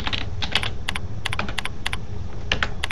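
Fingers tapping on a computer keyboard to type a program name into a search box, a quick run of crisp, close key clicks in short bursts with small pauses between them, no voices.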